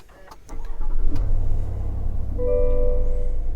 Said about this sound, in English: Okay, starting the car up.